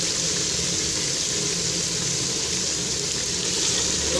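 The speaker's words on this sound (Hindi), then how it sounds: "अब मैं इसके अंदर पानी ऐड कर दूंगी।" Water being added to a pan of roasted white chickpeas, a steady broadband hiss and rush like pouring or sizzling liquid, continuous and close for the whole stretch with no talk.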